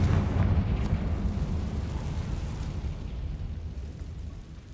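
Confringo blasting spell exploding in Hogwarts Legacy, a loud, deep boom that hits at once and then rumbles and fades slowly over several seconds.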